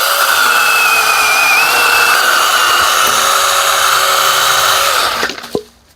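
A chainsaw cuts through the thick base of an old apple tree during orchard clearing, a loud steady high-pitched whine held for about five seconds before it abruptly cuts off and fades, leaving a few faint knocks.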